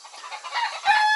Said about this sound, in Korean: 꼬꼬대꼬꼬꼬 하는 특유의 리드미컬한 노래